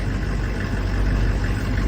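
A truck engine idles steadily at operating temperature with the air conditioning running, a constant low rumble layered with a broad fan-like hiss and no speech.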